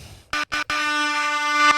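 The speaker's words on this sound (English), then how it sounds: "I got the air horn." Air horn sound effect blasting loud and close: two short honks, then one long sustained blare.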